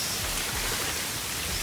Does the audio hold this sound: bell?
no